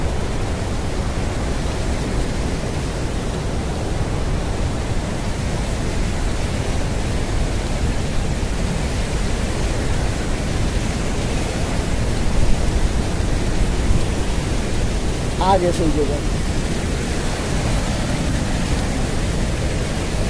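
A river flowing beside a bridge on a forest trail makes a loud, steady, unbroken rushing roar for the whole stretch, with a brief voice near the end.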